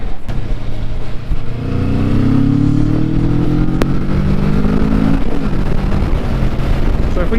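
Motorcycle riding along a street, its engine droning loudly close to the camera and rising in pitch as it picks up speed, then easing off, with wind buffeting mixed into the sound.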